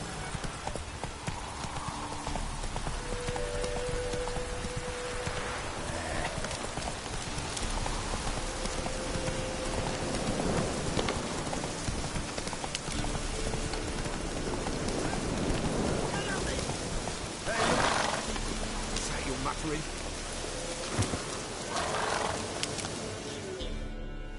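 A horse gallops in the video game The Witcher 3, with steady clip-clop hoofbeats running throughout, joined by a rain-like ambient wash and occasional voices.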